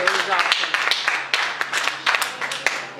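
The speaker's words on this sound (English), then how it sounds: "Y'all clap for that too." An audience at a stand-up comedy show claps in a dense, steady patter of applause, close and fairly loud, with some voices mixed in.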